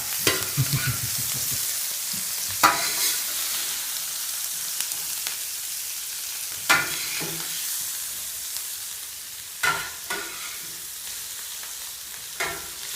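Onions frying in a pan for a seafood paella, a steady broadband sizzle with occasional stirring scrapes and clinks spaced every few seconds, close and moderately loud, no talk.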